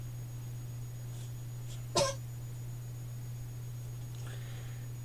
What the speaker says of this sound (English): He's got a bit of a cough.